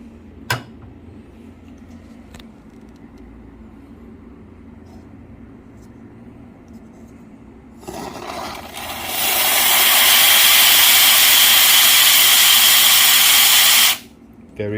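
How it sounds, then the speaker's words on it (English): Steam wand of a VBM Domobar Super Elettronica dual-boiler espresso machine with a four-hole tip: after quiet room tone and a click, a loud, harsh continuous hiss bursts on and roars steadily for several seconds before cutting off abruptly. "Very powerful steam."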